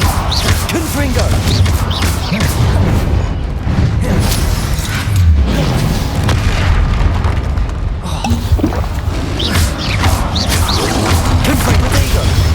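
Confringo blasting-spell explosions in Hogwarts Legacy, loud, dense booms and crashes over a constant layer of battle noise, with a voice speaking now and then.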